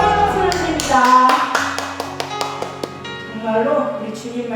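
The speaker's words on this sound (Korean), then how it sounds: "하나님께 영광 박수를 드립니다." At a children's Sunday worship service in a Korean church, sharp scattered hand claps ring out over sustained musical tones and a voice, irregular at first, then fading as the music carries on.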